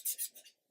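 Brief scratchy rasping as an 800-grit abrasive sponge is rubbed back and forth on a 1/72 scale plastic model aircraft, a few quick strokes close by, then fading to quiet.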